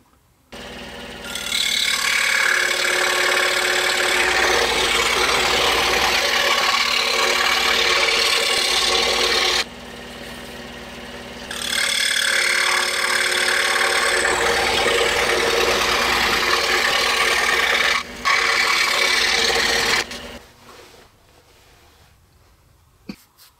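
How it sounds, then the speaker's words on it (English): A belt sander smooths small wooden workbench note pad pieces in two long, loud, steady bursts of abrasive rasping, with a brief pause between them and a quiet tail at the end. "Then we're going to head over to the belt sander, and we're going to clean them up"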